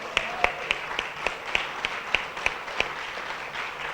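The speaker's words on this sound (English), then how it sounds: "let's give these guys a round of applause" Applause for a panel at a conference, a thin smattering of individual claps in loose rhythm, crisp and moderately close, over a murmuring room background.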